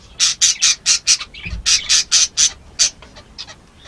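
Pet budgies in a breeding bird room give a rapid series of loud, close, harsh squawks, roughly a dozen sharp calls in quick rhythm with a few softer chirps trailing off.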